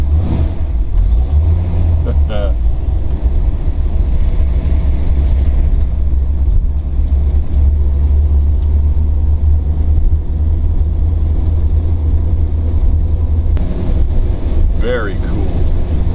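A restored 1969 Dodge Charger 500 with a HEMI V8 and four-speed manual gives a loud, continuous low rumble from inside the car as it drives in reverse, with wind buffeting the microphone and someone talking over it.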